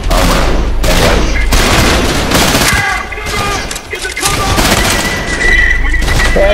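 Heavy gunfire and booming blasts in the shooter video game Trepang2, loud and dense volleys with a brief lull midway, a voice faintly in the mix.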